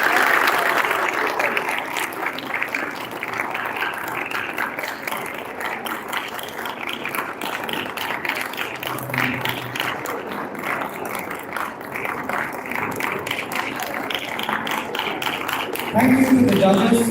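An audience at a Gavel Club grand finale applauds, a soft, steady patter of clapping that runs on for the whole stretch, with voices briefly rising near the end.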